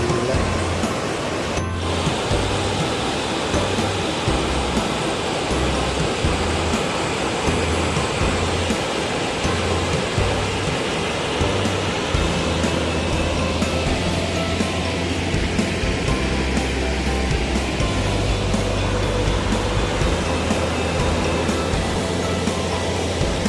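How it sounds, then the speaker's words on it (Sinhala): Steady roaring rush of falling water at Dibulapathana Ella waterfall, Sri Lanka, continuous and full, with a deep rumble underneath and no voices. "මෙන්න දිඹුලපතන ඇල්ල"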